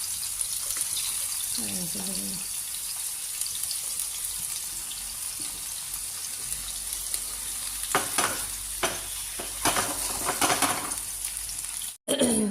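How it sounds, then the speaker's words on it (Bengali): Bitter gourd and potato pieces frying in a pan give a continuous sizzle, with clattering stirring strokes in the second half and a brief cut near the end. "করলা একটু আলু দিয়ে ভাজি করছি"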